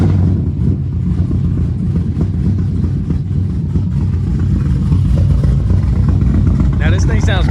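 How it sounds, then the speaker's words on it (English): A loud, rumbling tuned Dodge Charger Scat Pack engine built from an R/T idles with a choppy, uneven burble after starting up, close by and steady throughout. "let's go ahead and get a startup of it"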